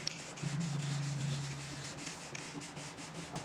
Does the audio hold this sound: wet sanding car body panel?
yes